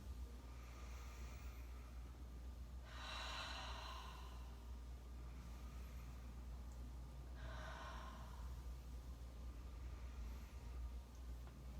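A person breathes in and out while rolling the shoulders in a back-pain stretch, with two soft, airy breaths several seconds apart, close but faint over a low steady hum.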